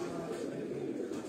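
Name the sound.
pigeon landing and cooing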